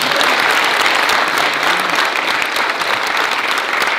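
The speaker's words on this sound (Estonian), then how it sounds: "Aplaus!" An audience at an Estonian nationwide theatre day for people with special needs, held in Paide, claps loudly. Dense, sustained applause fills the hall evenly from start to finish.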